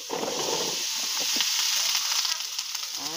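Okra and onion sautéing in a pan, a close, steady sizzle and hiss of frying with faint stirring scrapes running throughout.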